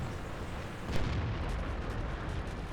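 Tank gunfire in World of Tanks, with a VK 16.02 on the Erlenberg map, heard as a dense, loud rumbling roar with a heavier boom near the start, all in a continuous game soundscape.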